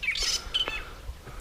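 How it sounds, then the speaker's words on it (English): Harsh, metallic squawking calls of fork-tailed drongos flying overhead on a bush walk, with a few sharp chirps, ringing out in short bursts over a quiet outdoor background. "There's a fork-tailed drongo or two flying above us."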